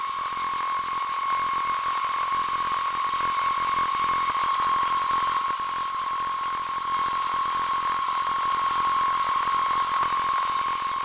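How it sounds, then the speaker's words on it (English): A loud workshop exhaust fan in a bodywork and paint shop drones continuously with a steady whine and airy rush, close and unchanging, with no voices. "had to shut my exhaust fan off so you could hear me."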